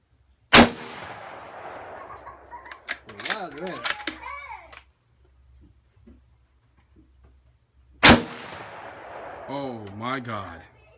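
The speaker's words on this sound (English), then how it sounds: "I'm going to shoot 2 rounds unsuppressed and 2 rounds suppressed." Unsuppressed rifle shots from a .308 Winchester and a 300 Blackout short-barreled rifle, two sharp, very loud single cracks several seconds apart, each followed by someone talking.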